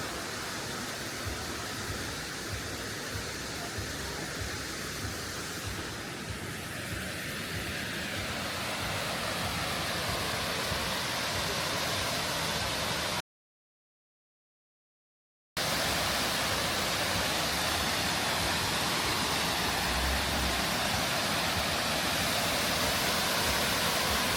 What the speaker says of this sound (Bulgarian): Тук реално отиваме към Вирчето и водопада отдолу.